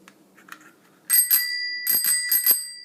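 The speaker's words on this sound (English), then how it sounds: "I added the bell." A bicycle bell on a Raleigh Route 4.0 bike rings in several quick, bright dings, sharp and close, after a few faint knocks.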